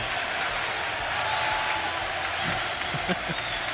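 A packed esports arena crowd at a DreamHack Counter-Strike quarter-final cheers and applauds in a steady, distant roar, heard beneath a caster talking.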